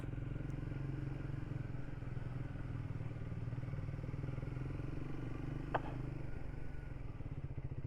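Triumph 400 Supermoto motorcycle riding on the road, its engine droning steadily and close throughout with a brief clatter partway through.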